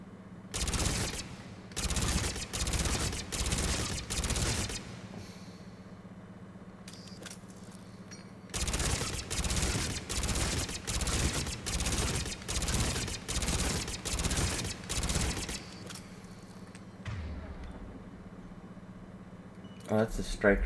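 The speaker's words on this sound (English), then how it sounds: "Oh, that's a striker assault rifle." A Striker assault rifle fired in Mass Effect: long rapid bursts of heavy automatic gunfire, one stretch of several seconds, a pause, then another long volley and a final short burst, loud and close with a low hum between.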